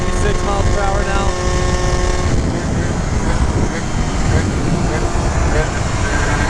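Moped fitted with a Polini Evolution 70cc kit running flat out at speed, a loud, sustained high-revving two-stroke drone buried in heavy wind rush, with no break in the noise.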